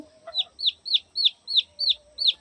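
Chickens and a rooster cluck in a shed in a steady series of seven short, bright calls at an even pace, close by, with no talk.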